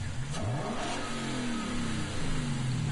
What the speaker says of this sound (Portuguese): Já se ouvem os motores.